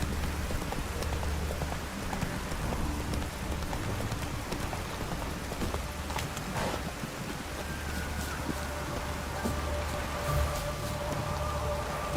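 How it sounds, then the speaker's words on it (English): Steady rain falls in The Witcher 3, a dense wash of drops and wind that holds at an even level throughout, with no talk over it. "Rain was coming."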